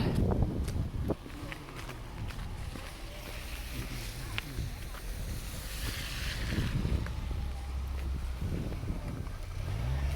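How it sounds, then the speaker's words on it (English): Wind blows outdoors downtown after a storm, among piles of snow, buffeting the microphone in rough, uneven gusts. A voice is faintly present in places. "Got a bit of a breeze right here. Bit of a wind, so I try to shield my mic till I get out of it."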